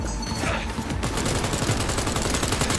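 Rapid automatic gunfire fills a firefight in the video game Cyberpunk, loud and close, a continuous burst of overlapping shots with mechanical clatter.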